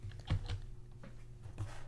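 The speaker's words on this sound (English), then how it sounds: "now you can press the spacebar key" Spacebar on a computer keyboard pressed a few times, giving soft, close clicks in quiet room tone.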